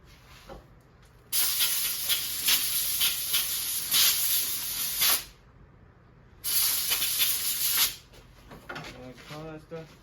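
Brake cleaner is sprayed onto the engine of a 2L PD Volkswagen GTI in two long, loud hissing bursts with a pause between. People talk briefly near the start and the end.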